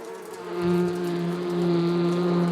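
Bees hum in a steady buzzing drone that swells in after a quiet start and holds loud and close for a couple of seconds, with no talking.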